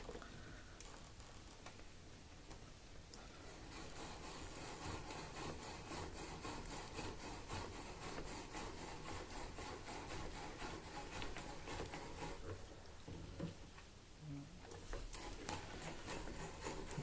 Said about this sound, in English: I can just always drill to 1 1/4 inches.